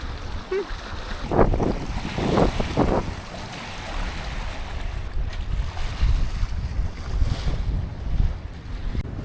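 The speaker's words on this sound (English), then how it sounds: "we are sailing quite well with just the head sail" A sailboat runs under its head sail alone through choppy seas, with gusty wind buffeting close and loud over a constant wash of waves against the hull.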